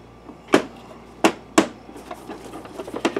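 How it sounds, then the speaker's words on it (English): A screw being driven back into place during repair of an Optoma WU515 DLP projector gives three sharp, close pops as it drops into its threads, followed by softer, faster small clicks and scrapes. "Did you hear that second pop? That was the screw dropping into the proper threads."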